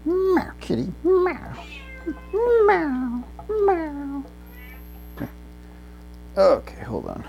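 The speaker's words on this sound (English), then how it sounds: "Meow, kitty. Meow. Meow. Meow." A cat gives a series of clear, drawn-out meows, some rising and some falling, spaced with short pauses over a steady electrical hum.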